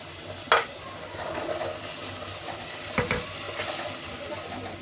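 An onion-tomato masala paste fries in a pan with a steady sizzle. Two louder utensil knocks against the pan stand out, one early and one midway, with lighter stirring scrapes between them.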